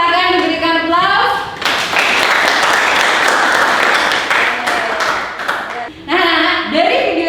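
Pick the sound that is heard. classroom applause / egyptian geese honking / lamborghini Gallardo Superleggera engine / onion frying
classroom applause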